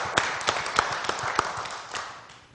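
A small church congregation claps for Sandro, with sparse, uneven hand claps of moderate loudness that thin out and fade over a couple of seconds.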